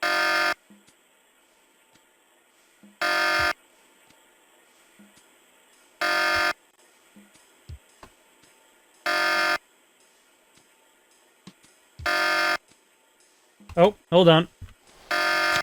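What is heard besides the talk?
alarm in The Pandora Directive video game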